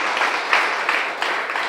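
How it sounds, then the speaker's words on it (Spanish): Church congregation applauding together during a service, a steady wash of many hands clapping close and loud throughout the short stretch. "Vamos a darle un aplauso al Señor por nuestro hermano Maximiliano"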